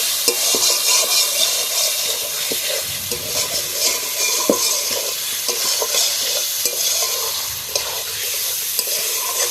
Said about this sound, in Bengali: এবার আমি ভালোভাবে কষিয়ে নেব।